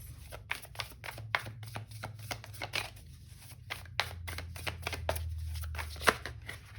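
A deck of tarot cards is shuffled with rapid, repeated riffling flutters and papery snaps, close and steady, alone without talk.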